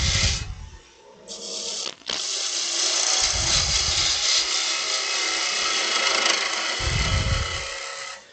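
A woodturning gouge rounds over a wooden snowman spinning on a lathe, giving a steady, loud broadband cutting hiss close by, with a short dropout near the start and low rumbles from the lathe underneath.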